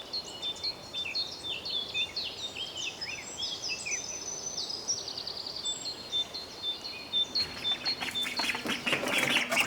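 Baby runner ducklings peep and chirp in a busy, overlapping chorus of high calls, fairly close and soft over a faint background hiss, with the chatter thickening toward the end.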